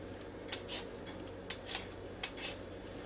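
Potatoes being peeled by hand in a kitchen, with three pairs of short, crisp scraping strokes spaced about a second apart, close and clear over a faint steady background hum.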